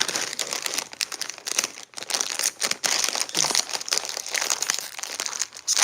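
Plastic packaging crinkles and crackles loudly and continuously up close, with irregular bursts as it is pulled and opened.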